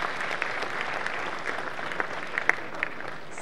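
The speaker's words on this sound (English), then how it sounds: "I'm sure a big clap for you in advance." Audience at a student innovation award event applauds, a steady moderate wash of clapping with a few sharper individual claps standing out.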